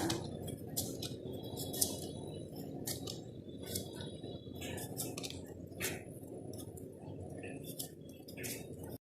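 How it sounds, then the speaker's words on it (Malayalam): A knife peels the skin off an elephant foot yam, giving a steady run of short, crisp scraping strokes over a constant low background rumble, with no talking. "ഇനി അത് നന്നായി ചെത്തി അതിന് തൊലിയൊക്കെ നന്നായി ചെത്തിയെടുക്കണം"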